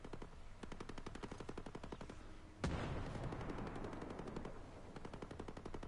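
Rapid automatic gunfire rattles in the shooter video game Ghost Recon Breakpoint, a long steady burst of close shots with a louder blast partway through, followed by dense continued firing.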